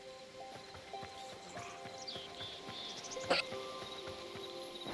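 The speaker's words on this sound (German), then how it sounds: "Guck mal da, das Pferd ist wach geworden" A horse in the game Hytale gives steady, soft clip-clop hoofbeats amid crickets and light ambient tones, with one brief whinny-like cry partway through, faint and distant.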